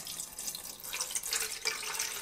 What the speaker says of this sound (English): Pour in 8 ounces of water.